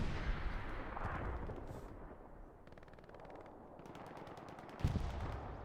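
Machine-gun fire in the tank-free World War II shooter Hell Let Loose during a tournament match, with rapid bursts of gunfire and distant explosions rolling continuously, loud and dense, with a sharp closer shot near the end.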